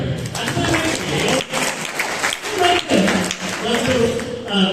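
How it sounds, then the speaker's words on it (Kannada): Children applauding at a school seminar, a ragged burst of clapping that swells and fades in waves, mixed with voices talking over it. "ಒಳ್ಳೆ ಚಪ್ಪಾಳೆ"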